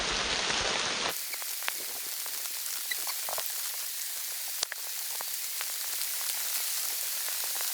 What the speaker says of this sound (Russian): Налетел дождик небольшой.